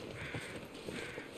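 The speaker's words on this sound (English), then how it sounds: "Nope, those are overhead crows." Crows cawing overhead in The Long Dark video game, a few harsh, faint calls from a distance over quiet ambience.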